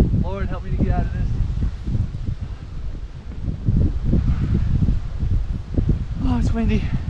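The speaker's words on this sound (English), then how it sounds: "Oh, it's windy." Gusty wind buffets the microphone in low rumbling bursts at a winter polar bear plunge, with brief voices speaking now and then over the blustery roar.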